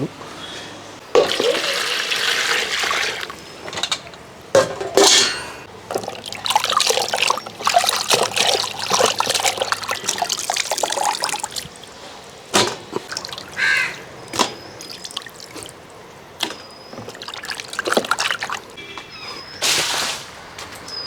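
Raw chicken is rinsed by hand in a bowl of water, with intermittent splashing, trickling and clattering in short bursts, and a voice faintly present at times.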